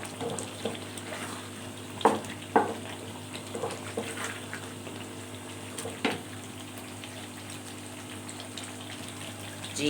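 Fried tomatoes with green coriander being mixed in a pan for chicken biryani: a quiet, continuous frying hiss with a few sharp stirring knocks scattered through, fairly faint and without talk.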